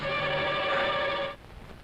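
A telephone rings with a loud, sustained electronic tone that cuts off abruptly near the end, leaving quiet room noise.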